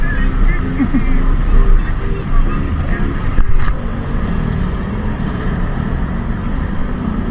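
Heavy road traffic congestion in the Philippines, a dense continuous rumble of idling and crawling vehicles with occasional horn honks close by, steady and loud throughout.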